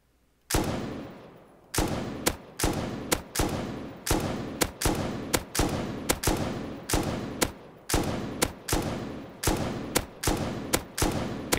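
Rapid bursts of gunfire from the video game Rust aimed at tanks, loud sharp shots repeating in a steady rhythm about every half second to second, each with a short decaying tail, with no talking.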